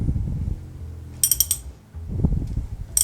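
A ratchet works on a timing chain bolt of a 2006 R53 Mini Cooper S, giving two short bursts of quick metallic clicks separated by muffled knocks and handling sounds, close up.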